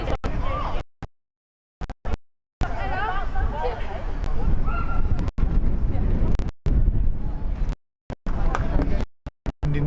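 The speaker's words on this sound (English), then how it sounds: "Wind's blowing straight in her face" Gusty wind buffeting the microphone at an outdoor rugby pitch, loud rumbling bursts broken by sudden dropouts, with crowd murmur and speech mixed in underneath.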